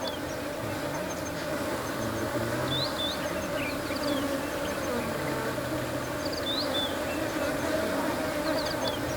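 Bees swarming around beehives set out as an elephant deterrent near the equator, a steady continuous buzz filling the whole stretch with faint bird chirps scattered on top and no talk.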